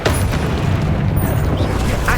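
A magical Expelliarmus spell cast in the Hogwarts Legacy video game, a booming burst that swells over a steady, loud rumble of in-game noise for a couple of seconds.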